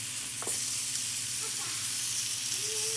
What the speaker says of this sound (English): Now we're going to turn it over and sear it from on the opposite side